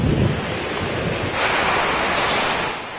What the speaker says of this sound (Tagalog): tumitindi na ang lakas ng hangin at buhos ng ulan